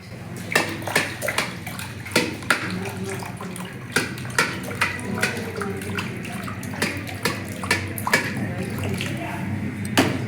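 Water poured in repeated splashing bursts over the hands during a traditional jaundice test, each pour a short gush with brief gaps, close by, with people talking quietly underneath.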